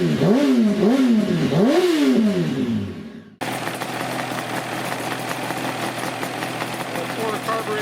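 A Yamaha RZV500 motorcycle with four synchronized carburetors gives a few quick throttle blips up close. It then falls back to a steady, rough idle of about 1,200 RPM.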